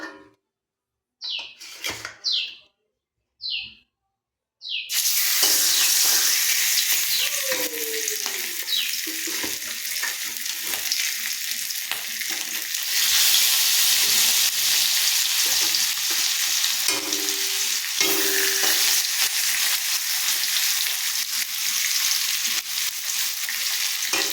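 Fish dropped into hot oil in a pan: after a few quiet seconds with faint bird chirps, a loud, dense sizzle starts suddenly and holds steady and close to the end.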